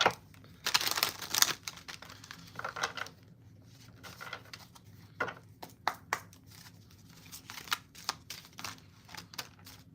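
Tarot cards being shuffled during a reading, with soft papery riffles and crinkles, scattered taps and flicks coming in irregular bursts, close and fairly quiet.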